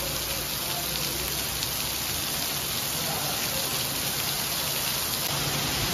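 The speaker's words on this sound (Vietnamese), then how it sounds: "Mưa bên đây mưa lớn dễ sợ luôn á các bạn." A heavy tropical downpour at a beach resort on Cayo Santa Maria, Cuba, pours down as a dense, steady hiss and patter, loud and unbroken throughout.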